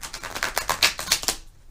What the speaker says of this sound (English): not bad on the shuffle.